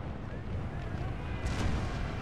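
Mortar fire in an American Civil War battle game, low distant booms rumbling under a faint battlefield din, with a single sharper thump near the middle and a voice talking quietly.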